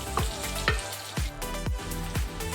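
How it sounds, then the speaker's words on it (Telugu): Chopped onions sizzle steadily in hot oil with salt for a raw mango chutney, with several distinct stirring scrapes of a spoon at a steady rhythm, close and continuous. "ఆనియన్స్ని యాడ్ చేసిన తర్వాత కొంచెం కలర్ వచ్చేంత వరకు వేయించుకోండి."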